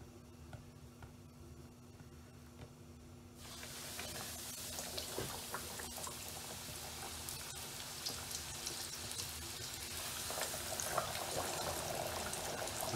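Coated chicken pieces dropped into hot oil for a crispy chicken pizza, a quiet background that breaks into steady, dense sizzling and crackling about three seconds in, continuing evenly at moderate volume.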